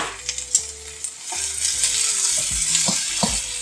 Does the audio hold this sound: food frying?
yes